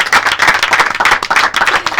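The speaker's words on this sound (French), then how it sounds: "Est-ce qu'on peut encore applaudir pour moi alors?" A studio audience claps for a host on a television show, a brisk, dense burst of hand claps that lasts about two seconds, close and fairly loud, with no talking over it.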